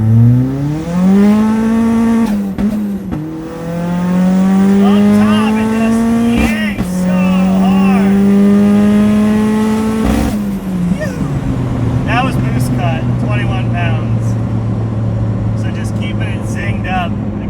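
A loud turbocharged Mazda Miata engine revs up through a long second-gear pull from low revs, pitch rising steadily, then drops off as the throttle lifts, with faint chirps and whooshes afterward.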